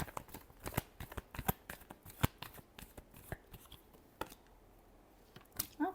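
Tarot cards are shuffled by hand in quick, irregular riffling bursts of crisp papery snaps, close and fairly soft, with a short pause before a final flurry.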